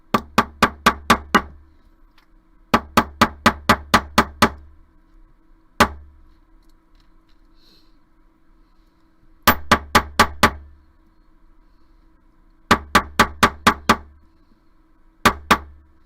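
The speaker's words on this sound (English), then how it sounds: "So I'm just going to hammer this whole thing flat" Wire filigree earrings being hammered flat with a small hammer on a hard surface: rapid bursts of four to six sharp metallic taps, separated by pauses and a few single blows, close and loud with no talk.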